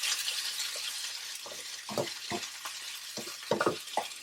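Bell peppers and onions fry with crushed red chili and salt in a pan over a medium flame, giving a steady soft sizzle broken by several louder scraping stirs, with no voices.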